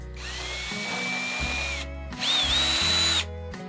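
A power drill runs in two loud bursts with a rising whine, briefly pausing between them as an extra-long screw is driven, with no talking.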